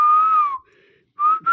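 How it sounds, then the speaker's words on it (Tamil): A man gives a loud, close whistle at a woman: a long steady tone that slides downward, a short pause, then a brief rising return note. "விசில் ஒன்று அடிக்கிறான் பாரு"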